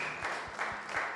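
A church congregation clapping in praise of the Lord, with rhythmic, fairly even handclaps repeating roughly every quarter second in a short, moderately loud burst.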